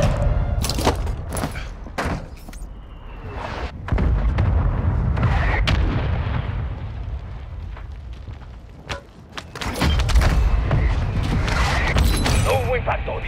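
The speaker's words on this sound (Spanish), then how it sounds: "¡Hostiles lanzaron un ataque de mortero!" Repeated heavy mortar booms and blasts strike close by amid gunfire and battle noise in Call of Duty: Modern Warfare II, with voices shouting in Spanish in between.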